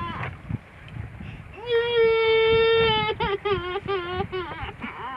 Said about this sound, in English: The baby's crying.